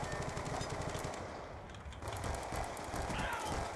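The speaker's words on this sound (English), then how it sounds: "He fired about 15 bullets more than necessary." Rapid automatic gunfire in Call of Duty Black Ops 2 multiplayer, a continuous rattling burst of shots that briefly pauses and resumes, fairly quiet and steady.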